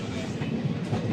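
Steady rumble and clatter of a packed third-class Indian passenger train on the move, loud and continuous with a rolling wheel noise throughout.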